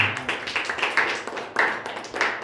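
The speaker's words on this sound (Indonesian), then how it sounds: "beri tepuk tangan kepada Ihsan" A small classroom group gives a brief round of clapping for a student, a few uneven bursts of hand claps close by, irregular and sparse rather than a full ovation.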